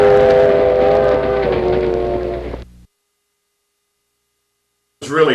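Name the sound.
steam train passing in old 1960s film footage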